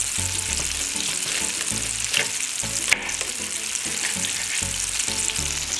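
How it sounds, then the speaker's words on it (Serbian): Pork fillet frying in a hot pan gives a steady, close sizzle and crackle that runs the whole time, with a soft, low, rhythmic musical backing beneath it. "Dok se meso prži, jednu glavicu belog luka presečit ću na pola."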